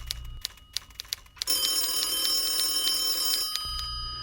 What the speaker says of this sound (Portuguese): Telefone a essa hora.